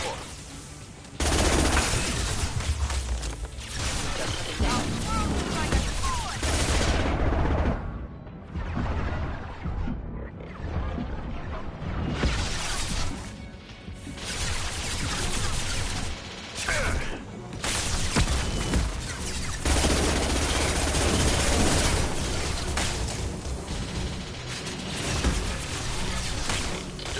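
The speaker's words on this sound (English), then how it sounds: "Taking heavy fire!" Sustained heavy gunfire and automatic weapon bursts from a Mass Effect 2 firefight, loud and nearly continuous throughout, broken by brief lulls, with occasional game voices mixed in.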